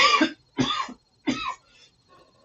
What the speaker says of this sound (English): While I go cough and try to take a lung out